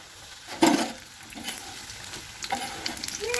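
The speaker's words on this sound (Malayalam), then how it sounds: "നമ്മൾ സമൂസയൊക്കെ ഇങ്ങനെ പൊരിച്ചുകൊണ്ടിരിക്കുകയാണ്" Samosas deep-fry in oil in a home kitchen, with a soft, steady sizzle. Brief louder crackles and splashes come up as pieces are moved or stirred.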